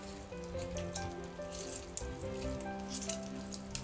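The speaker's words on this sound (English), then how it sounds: "the chicken is cooking now. The water has got boiled here" Chicken simmering in boiling water in a single pot for chicken biryani, giving a steady close bubbling and sizzling hiss with scattered pops throughout.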